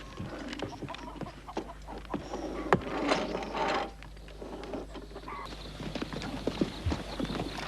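Faint hoof clops tapping irregularly over a noisy outdoor background, with a few sharper knocks in between.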